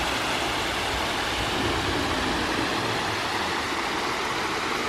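Running water of a mountain stream on a spring hike up Mt Gwanaksan, a constant close rushing and splashing wash that stays even and unbroken from start to finish.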